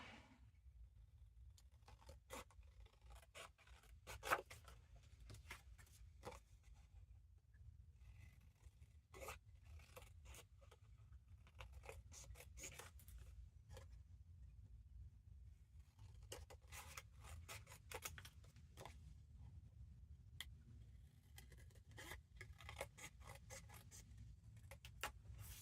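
Quiet, intermittent snipping and rustling as scissors cut out paper for a Christmas junk journal, in short clusters of sharp strokes with pauses.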